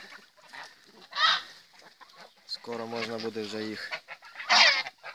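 Geese in a village yard honk and cackle in short bursts around a person speaking nearby, the calls rising and falling in the outdoor background.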